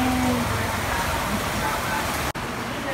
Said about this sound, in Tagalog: Lakas na ulan, guys.